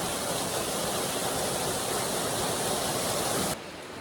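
A waterfall on a New Mexico hiking trail near Los Lunas, a steady, loud, close rush of falling water with no voices, dropping slightly in level near the end.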